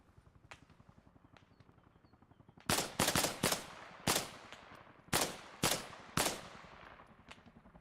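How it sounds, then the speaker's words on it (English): Gunfire in the Arma Reforger video game: a fast rhythmic patter of distant shots gives way to a string of loud, sharp cracks spaced unevenly, some in quick doubles, with no talk. "and then he opens fire again"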